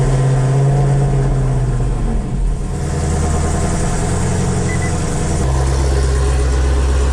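Chevrolet Camaro SS engine running loud and close, a deep steady idle rumble that dips briefly and then settles into a lower, heavier idle.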